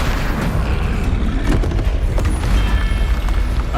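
Flipendo spell impact in Hogwarts Legacy combat, a loud sustained low rumble with thudding hits and a sharper knock midway, heavy and close throughout.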